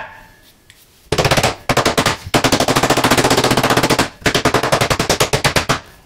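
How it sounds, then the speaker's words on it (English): Rubber mallet tapping magnets onto a DIY planar speaker panel in rapid, loud, sharp strikes, fired in quick bursts of many hits with short pauses between, close up and without talk. "Let's give it a few taps, or as Eve would say, tappity tap, I guess."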